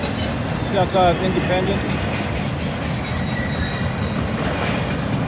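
A Norfolk Southern or CSX train passes a road crossing near a railroad construction zone outside Independence, giving a steady loud rumble with clattering wheels throughout while someone talks over it.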